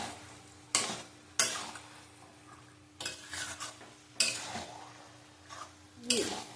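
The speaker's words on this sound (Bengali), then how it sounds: "এবারে ভালো করে আঁচ বাড়িয়ে কষিয়ে নিতে হবে।" Chicken being stir-fried over high heat in a pan for a yogurt chicken kasha with panch phoron, repeated sharp spatula scrapes and clanks every second or so over a low sizzle, close and alone.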